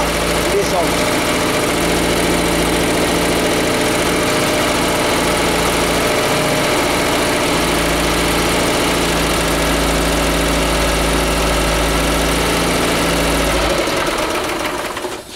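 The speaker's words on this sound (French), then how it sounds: "ce moteur il tourne bien" An old Panhard WL1 car engine idles steadily and loudly with an even mechanical chug and faint ticking, running continuously before cutting out near the end.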